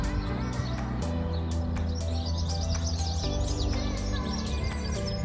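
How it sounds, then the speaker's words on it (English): Birds sing in the countryside with repeated bright chirps and tweets scattered across the clip, set over a loud, steady low background that runs without a break. "I do live in the countryside and you can hear the birds."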